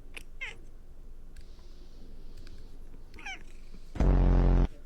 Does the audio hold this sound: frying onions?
no